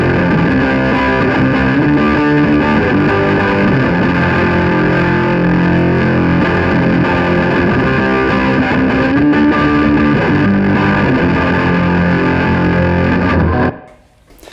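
Electric guitar playing a song through distortion and effects pedals, a loud, dense sustained riff running throughout before cutting off abruptly near the end.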